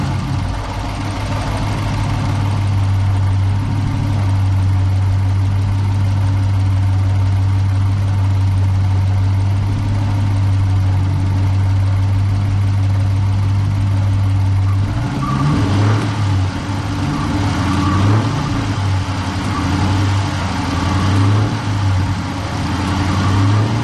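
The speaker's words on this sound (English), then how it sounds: "I'm going to crank the car up. I'm going to let it run. I'm going to let you hear the engine." A 2015 Dodge Challenger R/T with a Hemi engine, six-speed and 150,000 miles idles loud and steady with a deep even rumble; about two-thirds through the tone shifts and roughens amid windy outdoor noise.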